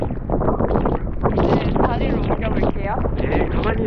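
Strong gusty wind roars and pounds the microphone at Iho Tewoo beach on Jeju Island, where an Eriba Touring 530 caravan is parked, loud and continuous throughout with voices talking underneath.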